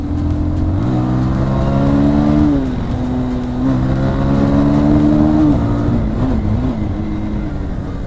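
Motorbikes including a Yamaha R15M racing on an open road, engines droning loudly and continuously with pitch rising and falling through gear changes and revs, close by and without talk.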